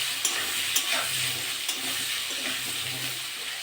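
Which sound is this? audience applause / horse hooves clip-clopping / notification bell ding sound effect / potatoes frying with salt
potatoes frying with salt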